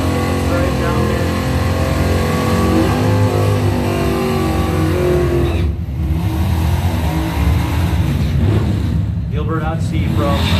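Drag race cars, including a Chevelle Malibu and a '79 El Camino, roar loudly down the strip at a memorial race. The engines blare continuously and close by under an announcer's running commentary.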